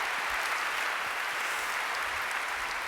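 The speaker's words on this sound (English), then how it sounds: "Give him a round of applause" An audience applauds steadily throughout, a dense wash of clapping at moderate distance with no break.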